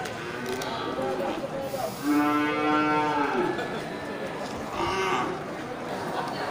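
Bali cross cattle, a crossbreed with Aceh cattle, moo loudly once at a livestock market, a long lowing call rising over steady crowd chatter and background talk.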